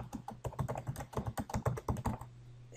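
Rapid keystrokes on a computer keyboard, a burst of quick irregular clicks typing text in a desktop editing program, close and clear, then a brief pause near the end.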